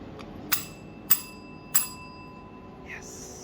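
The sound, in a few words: dinging a hotel bell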